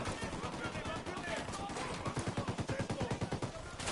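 Gunfire in Ghost Recon Wildlands: a dense, loud run of rapid shots that settles into a fast rhythmic burst toward the end, with voices talking over the firefight.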